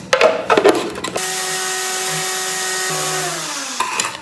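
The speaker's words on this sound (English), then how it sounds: "Now I'm going to pour it in this blender" An electric blender grinds dried papaya with a steady high whirring drone after a few clattering knocks as it starts, the motor pitch shifting slightly midway before it winds down and stops.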